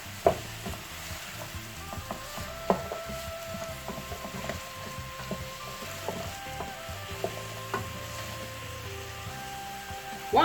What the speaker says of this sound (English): So I'm going to stir fry this for 3 minutes.